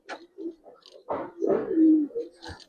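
Close, soft cooing from Giribaz and other fancy pigeons in a loft, with several short throaty coos in an uneven rhythm and one longer drawn-out coo near the middle.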